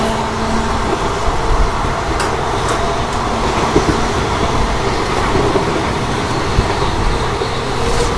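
A Bengaluru to Chikmagalur train pulling away from a station, giving a steady, loud rumble and rattle of rolling wagons with a few sharper clanks, and no voices.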